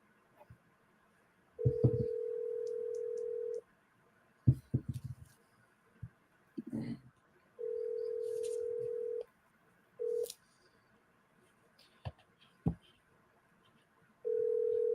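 Phone dialing tones ring out while calling a seller, several sustained steady tone bursts with gaps between them, quiet and alone with faint clicks and background noise.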